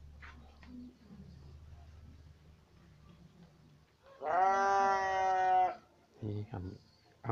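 Goats bleat loudly in a goat pen, one long harmonic call near the middle followed by a few shorter bleats, with quiet background noise before them.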